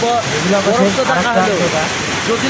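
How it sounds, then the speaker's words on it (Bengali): Steady rushing roar of a high mountain waterfall in Kashmir, on the Sonamarg to Zojila Pass road, loud and close, with a voice talking over the continuous splash. "আপনারা দেখাবো আওয়াজে এই যে ঝর্ণাটা পড়ছে পাহাড়ের মাথায়"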